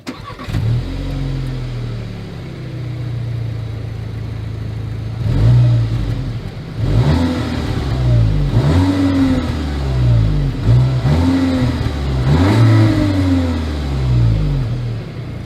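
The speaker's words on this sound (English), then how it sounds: "As always, here is that exhaust clip." The engine of a 2021 Volkswagen Arteon starts and idles with a deep exhaust rumble, then is revved repeatedly in several rising and falling bursts, close and loud.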